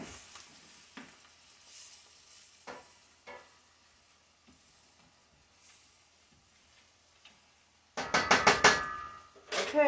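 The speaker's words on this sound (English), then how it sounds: "Give it a quick stir." Scalloped tomatoes cooking in a pan get a quick stir: faint scrapes and light clatter over a quiet stretch, then a burst of louder sizzling and utensil noise near the end.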